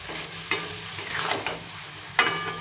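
Spices in oil with chili, green chilies and tomato for chicken kosha sizzle as they are stirred, with sharp scraping strokes across the pan over a steady background frying hiss.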